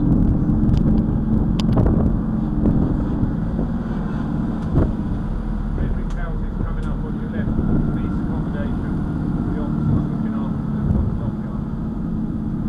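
Steady rumble of a Medway tour bus in motion, with a broad low engine and road drone, some wind buffeting and scattered knocks and rattles throughout.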